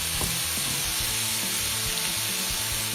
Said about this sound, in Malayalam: ഇതിലേക്ക് നമ്മൾ എടുത്ത് വെച്ചിരിക്കുന്ന കറിവേപ്പില കൂടി ചേർത്ത് ഒരു ചെറിയ ഗോൾഡൻ ബ്രൗൺ ഷെയ്ഡ് വരുന്നത് വരെ വഴറ്റിയെടുക്കുക